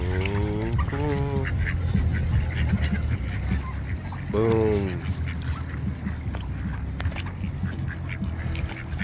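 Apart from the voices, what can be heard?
ducks quacking and honking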